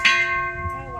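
A single bell strikes once and rings out, a bright metallic tone decaying over about a second.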